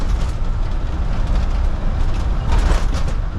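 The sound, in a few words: front load trash truck driving and bouncing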